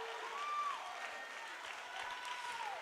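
A crowd claps and cheers for the Nantucket Whalers at a high school volleyball match against Dennis-Yarmouth. The applause is sustained and moderately loud, with whistle-like tones rising above it and a commentator talking over it.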